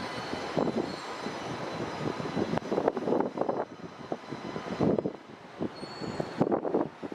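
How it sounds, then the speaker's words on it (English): An Embraer Phenom 300 jet inbound at Dallas Love Field, a steady mid-level engine roar with pulsing, wind-buffeted swells throughout, no voices. "It's an Embraer Phenom 300 inbound."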